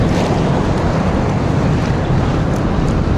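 Steady ocean surf churns around a fishing boat, a continuous loud roar of water with wind buffeting the microphone and no pauses throughout.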